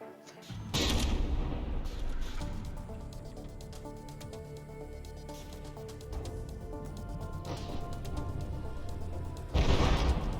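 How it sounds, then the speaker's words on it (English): Battleship guns fire shells in the naval video game From the Depths, with heavy booms at the start and end, scattered crackling impacts and a steady rumbling engine drone between them. "The Bismarck is having a bit of trouble landing shots at this point, it looks like."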